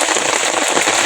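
Heavy rain pours down outdoors during mud crab trapping, a loud dense hiss of drops drumming on surfaces, continuous and close with no talking.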